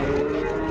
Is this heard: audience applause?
no